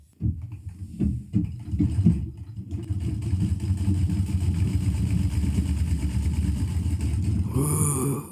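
A treadle sewing machine with a walking foot and vertical feed sews steadily, heard as a loud mechanical rumble through a microphone bolted to the treadle stand, with uneven thumps early on before settling into a continuous run.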